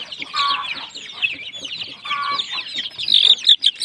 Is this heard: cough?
no